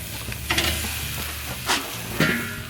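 Ribeye steaks sizzle and hiss on a Weber kettle grill, a steady close frying crackle with a few louder bursts as the meat or lid is moved.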